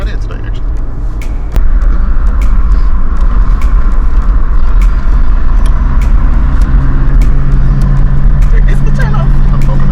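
Suzuki Jimny JB74 driving on a country road, a loud steady engine and road rumble from inside the cabin with repeated sharp clicks and ticks, the drone rising after a moment and continuing throughout.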